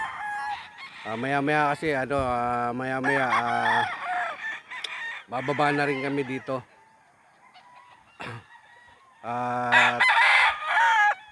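Roosters crow loudly and repeatedly close by on a farm, long strained calls with clucking and honking fowl between them, while a person speaks briefly.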